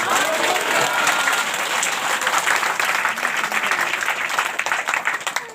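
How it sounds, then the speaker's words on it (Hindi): A church congregation claps together in a dense, continuous burst of applause that stays loud and steady for several seconds. "ताली बजा के बोलो हालेलुया।"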